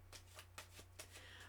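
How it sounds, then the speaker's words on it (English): Tarot cards are shuffled by hand in a quick run of soft, papery riffles and flicks, close and quiet over a low steady hum. "Right, so one last little shuffle."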